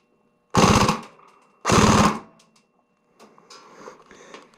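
A Tokyo Marui SCAR-H recoil shock airsoft rifle firing on full auto, two loud close bursts about a second apart, followed by quieter mechanical handling noise.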